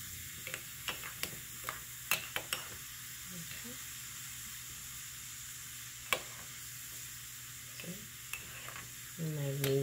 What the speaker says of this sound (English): And I mix it, and it fizzes